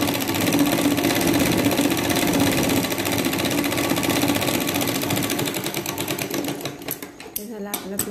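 A sewing machine runs steadily while stitching a lined katori blouse, a dense close rattling hum that continues for several seconds and breaks into a few separate stitches near the end.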